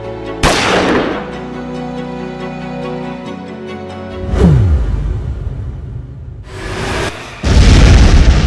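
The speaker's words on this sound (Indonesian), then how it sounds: "Gedung amunisi Belanda meledak" Deep booms and blasts from an exploding Dutch ammunition building erupt in several bursts, each with a sharp onset and rumbling tail, loud and close, with no voices.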